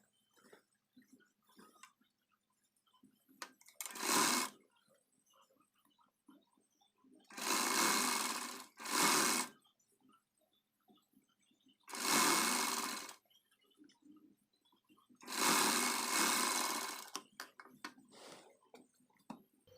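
A sewing machine topstitches a blouse sleeve lining folded under along its lower edge, running in four or five short, whirring bursts separated by near silence.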